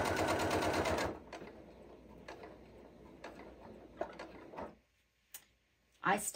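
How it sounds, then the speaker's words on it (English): A sewing machine runs in a steady dense whir while stitching a reversible bowl cozy, then stops, leaving quieter handling clicks and taps. "Lower the presser foot and continue stitching to the next corner."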